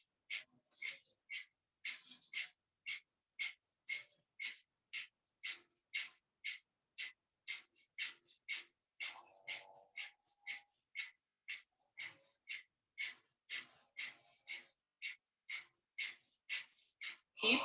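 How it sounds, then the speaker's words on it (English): Breath of fire during a yoga class: rapid, forceful nasal exhalations with the belly pumping, about two per second, close and dry, with a brief murmur partway through. "gently pumping the belly while inhaling and exhaling through the nose rapidly"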